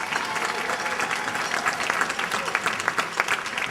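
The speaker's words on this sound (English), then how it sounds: "please give them a round of applause as well" Audience applause fills a school band concert hall for middle school students, a dense steady clapping from a large crowd that stays loud and continuous throughout.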